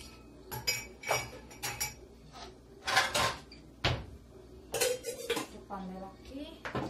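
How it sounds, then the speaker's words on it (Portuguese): Plates, pots and cutlery clink and clatter in a home kitchen sink area as a washed plate is set down among other dishes, several close, sharp knocks in an irregular rhythm with faint background noise. "Vou botar esse prato aqui."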